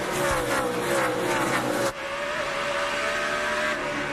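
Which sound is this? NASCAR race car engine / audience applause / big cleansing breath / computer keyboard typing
NASCAR race car engine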